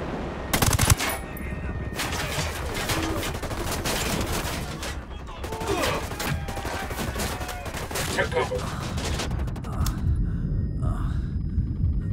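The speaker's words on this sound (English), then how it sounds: "I'm opening fire." Sustained machine gun fire in Ghost Recon Wildlands, with dense, rapid bursts and rumbling battle noise continuing almost without pause, loud and close, alongside gunfire against an approaching helicopter.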